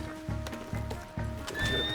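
Rhythmic hoofbeats pound steadily, then a horse lets out a short, high whinny near the end, in the video game Red Dead Redemption 2.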